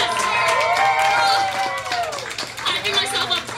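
Crowd of people at a Rock Band video game party at Matt Denny's, cheering and shouting together in a loud, sustained burst that rises and falls, with some clapping mixed in.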